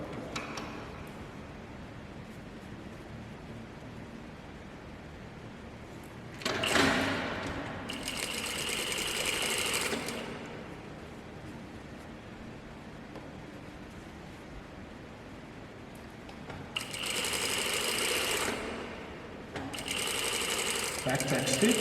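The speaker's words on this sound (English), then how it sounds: "we're going to do another back tack stitch" A sewing machine runs a back tack stitch on fabric for elastic-waist pants. It sews in two bursts of steady whirring, each a few seconds long with a brief change of pace, and the room is quiet between them.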